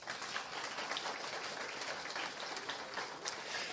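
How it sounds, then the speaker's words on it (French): Audience applause fills a graduation ceremony hall, a dense, steady wash of many hands clapping at moderate volume for several seconds. "Je vous demande d'applaudir Mme Claire Duguay au piano."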